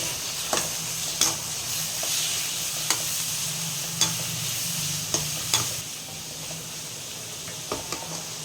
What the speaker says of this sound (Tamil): இப்போது தக்காளியை சேர்த்துடலாம் ஒரு நாலு தக்காளி சின்ன தக்காளியாக ஒரு நாலு தக்காளி